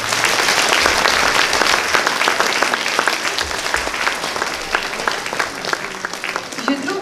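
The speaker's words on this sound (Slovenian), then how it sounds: "Zato prosim še za en aplavz." Audience applause for a mixed choir celebrating its 30th anniversary at a local community showcase in Dobova, a dense, steady wash of many hands clapping loudly throughout, alone without talk.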